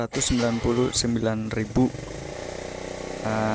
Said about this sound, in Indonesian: banyak suara ganggu ya, motor